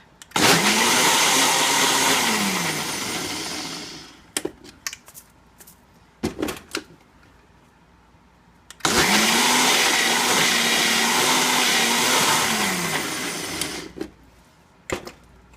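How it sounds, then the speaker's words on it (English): Blender whirring through raw coconut pie filling in two loud sustained bursts of about four seconds each, with a pitch that sags then recovers, separated by quiet gaps holding small clicks and knocks. "we're going to blend it in real quick"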